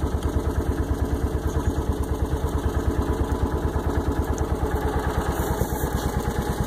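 A John Deere Gator utility vehicle engine at full throttle drives a water pump on a brush truck, giving a loud, steady, fast-pulsing drone that continues unbroken with no talking.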